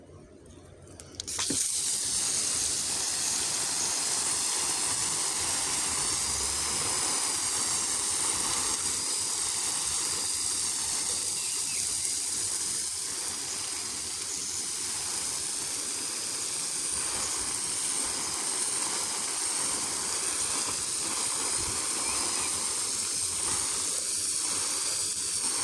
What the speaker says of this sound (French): j'arrose quand même assez abondamment, mais partout, pour vraiment bien humidifier